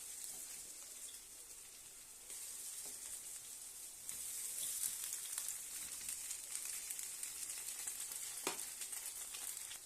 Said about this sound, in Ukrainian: І далі обсмажуємо 4 хвилини. Смажимо.